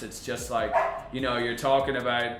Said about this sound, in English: that's my dog, he's there saying, come on, let me in, I want to be a part of this.